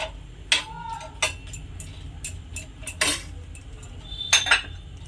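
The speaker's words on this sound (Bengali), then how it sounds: "এবারে দিয়ে দিচ্ছি শুকনো মাছের শুটকিগুলো।" Dried puti fish are tipped into a pan and toasted, heard as a series of sharp metallic clinks and scrapes of a utensil against the pan, spaced irregularly over a faint low background hum.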